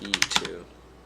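Several quick, crisp keystrokes on a computer keyboard during work on a DJI RC 2 controller, clustered in the first half-second before the room goes quiet.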